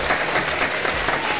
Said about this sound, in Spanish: el gusto de recibir aquí en la cabina con un fuerte aplauso a Bernie Vargas.